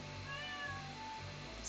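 A cat meows repeatedly in the Stardew Valley farming game, its short cries coming one after another over a steady game soundtrack.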